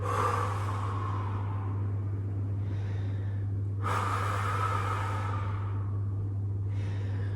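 Slow, deliberate breathing during a yoga session, two long airy exhales with a softer inhale between, close and clear over a steady low hum, and no voices.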